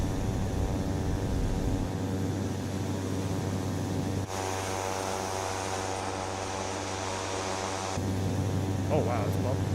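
A Cessna 208 Caravan turboprop in Microsoft Flight Simulator 2024 roars steadily through its takeoff run, a constant droning hum with a tonal whine that shifts partway through, while a pilot talks over it.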